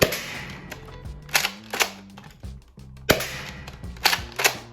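A modded Nerf Retaliator blaster fires foam darts in a quick series of sharp, snappy shots, some close together and others spaced apart, with a low mechanical hum beneath them.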